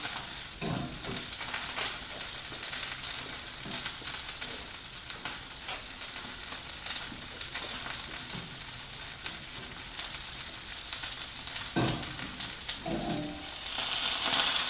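Food fries in a pan on medium-low heat with a steady, even sizzle and crackle, close and soft, broken by a few louder pops and stirring scrapes and growing a little hissier at the end.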